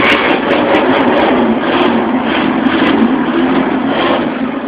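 A carbureted Ford F150 inline six-cylinder engine on a cold start, giving a loud, steady, close rumble throughout with no talking.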